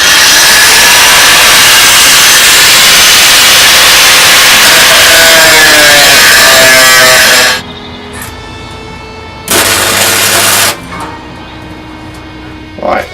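A loud, harsh, continuous cutting roar as pieces for gun pods on a model are cut to size, stopping abruptly, then a second short burst of the tool after a pause.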